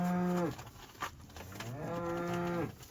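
Cattle moo loudly and close by on a winter farm, two long, drawn-out calls separated by a short pause, with no talking.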